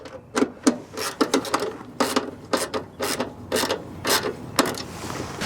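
Ratcheting wheel tool clicking as it snugs bolts on an Attwood RV furnace blower motor, with repeated short bursts of metallic clicks in an uneven rhythm, close and fairly loud, no talking.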